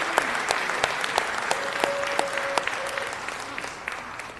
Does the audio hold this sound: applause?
yes